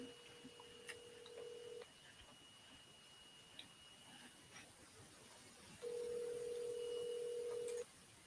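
A telephone call rings out unanswered, with two long steady ring tones several seconds apart against faint hiss and low line noise, and no voice picking up.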